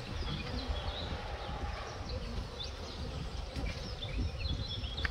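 A dense, steady buzzing of honeybees inside an opened hive during an inspection fills the clip, continuous and close, with no speech.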